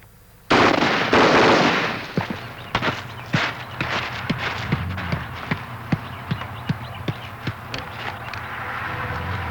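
A machine gun fires at an outdoor machine gun shoot in Texas Hill Country, opening with a loud burst that rings out and decays, followed by a string of sharp single reports echoing at steady intervals.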